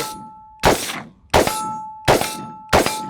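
Rifle bullets strike a steel target in four ringing clangs spaced roughly every three-quarters of a second, each impact sharp and bright, followed by a sustained metallic ring.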